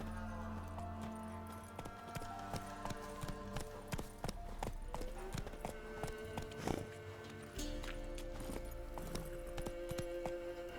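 Hooves of a horse clip-clop in The Witcher 3 video game, a steady trotting patter under game music and ambience, with no one talking.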